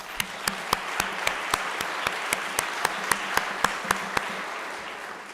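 An audience at a human trafficking awareness event held in a church hall applauds participating agencies. Steady crowd clapping fills the space, with one nearby clapper standing out in a sharp, evenly spaced rhythm above the rest.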